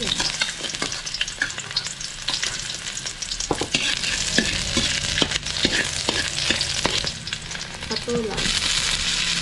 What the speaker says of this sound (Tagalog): So, magigisa na tayo ngayon ng ating patola, bawang,